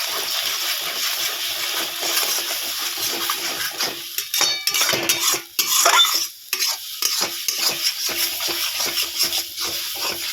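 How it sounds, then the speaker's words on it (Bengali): A spatula stirs eggs around a hot pan, producing busy repeated scraping and tapping against the metal over a steady sizzle, with a louder burst of clatter midway; no voices. "এবার আমি খুন্তি দিয়ে নাড়াচাড়া"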